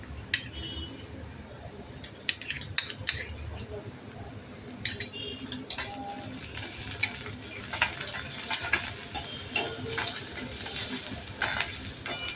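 Crushed ginger and garlic fry in a pan for egg masala, a soft steady sizzle broken by clinks and scrapes of a spoon against the metal pan, close but fairly quiet.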